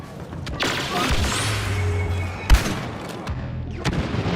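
Bryar pistol blasts in a Star Wars battle game, several sharp shots spaced irregularly over background battle rumble and hum, one louder thump in the middle.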